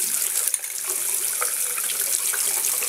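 Makeup brushes, eye brushes included, rinsed under a running faucet into a sink with a brush-cleaning glove: a steady, fairly loud hiss of water flowing continuously, with small splashy flickers and no talking.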